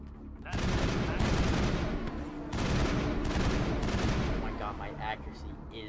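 Rapid, continuous gunfire from a weapon in Mass Effect, two long, loud, dense bursts with a short gap between them, close and filling the whole clip.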